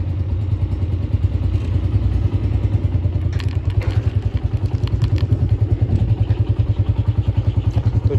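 A 2022 Honda 125 motorcycle engine idles nearby with a steady, rapid pulsing throb, joined by a few clattering knocks partway through.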